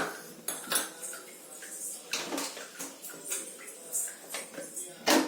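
A metal kadai pan clanks and scrapes on a stovetop, with several sharp clatters of cookware spread through a quiet kitchen.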